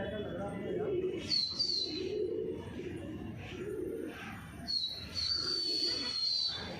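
Pigeons in a fancier's loft of red-band and Hyderabadi pigeons coo in repeated low, throaty phrases close by, with higher whistling chirps and someone talking.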